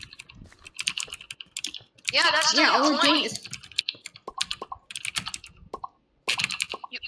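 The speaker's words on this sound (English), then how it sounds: "sorry for the loud keyboard." Rapid, loud clacking of a computer keyboard comes in bursts during a Minecraft game, with a person speaking briefly in between the typing.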